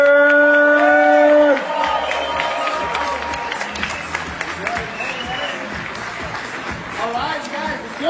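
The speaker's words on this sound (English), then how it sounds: "let's give a huge round of applause" Applause and cheering from a conference audience welcoming a panel host, a dense crowd of clapping and whoops that follows a brief musical tone and continues steadily throughout.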